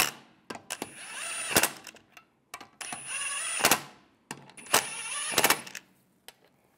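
A power tool snugs the lug bolts on a 1998-2010 Volkswagen Beetle rear wheel in three separate bursts, each a whirring spin that rises in pitch and ends in a sharp rattling impact, with short silent gaps between.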